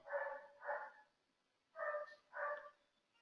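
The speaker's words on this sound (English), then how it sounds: "You can hear some dog sound." A dog barks four times in two pairs, faint and distant, with a short pause between the pairs.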